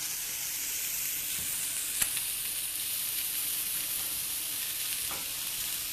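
Peppers and onions hit a hot pan and sizzle loudly, a dense steady hiss with a brief clatter near the start and a soft scrape later.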